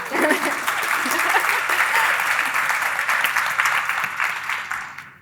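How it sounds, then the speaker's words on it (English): Audience applause fills a live podcast recording session, a dense, steady wash of clapping hands from a crowd that carries on strongly before tapering off near the end. "I think we can clap for Peggy"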